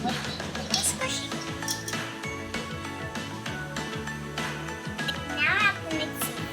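Fruity Pebble cake batter being mixed in a bowl, with a utensil clinking and scraping against the bowl in an uneven rhythm while someone talks over it.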